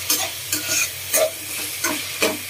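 Coconut being stirred into a Konkani-style fish curry frying in a pan, a sizzle broken by rhythmic scraping strokes about every half second, close and clear with no talk.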